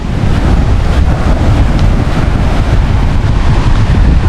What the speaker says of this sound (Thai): คลื่นอาจจะแรงนิดนึง